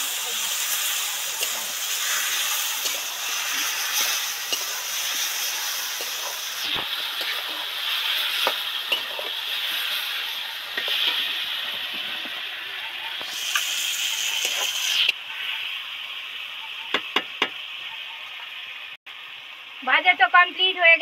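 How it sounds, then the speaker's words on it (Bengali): Spice paste for a village-style Bengali katla fish curry fries in hot oil in a pan, giving a steady close hiss and sizzle with occasional stirring scrapes, and the sizzle changes partway through. "এবার ধরে ধরে নেড়ে চেড়ে ভাজতে পারবো।"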